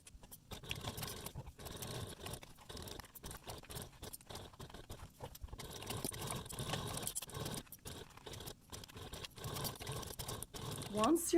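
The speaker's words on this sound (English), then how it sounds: "take this to a machine and sew the gusset to your front panel at 1/4 inch seam allowance" A sewing machine rapidly stitches a fabric gusset to a crossbody bag's front panel at a quarter-inch seam. It makes a close, even rattling patter in runs with short stops, and a voice talks over it throughout.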